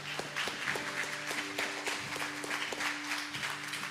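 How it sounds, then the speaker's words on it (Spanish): Sunday church congregation applauding, soft steady clapping with sustained organ or keyboard tones running underneath. "¿Por qué no dan un aplauso a Él?"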